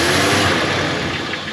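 A car engine is revved during an exhaust back pressure test for a restricted catalytic converter, giving a steady loud roar that holds for the whole moment.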